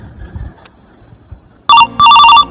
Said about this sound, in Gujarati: લાઈન વાળા મયુરને ફોન કરું.